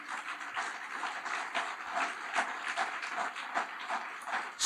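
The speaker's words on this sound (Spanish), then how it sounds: "denle un fuerte aplauso" A church congregation claps together at a Spanish-language service, sustained brisk applause with a rhythmic edge, moderately loud and steady from start to finish.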